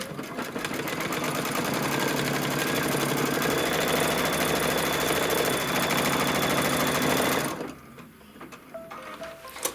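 A Kimberbell embroidery machine stitches a Mystery Wallflower quilt design, a steady close mechanical whirring with rapid needle rhythm running loud for about seven and a half seconds, then stopping to leave a quiet room with a few faint clicks.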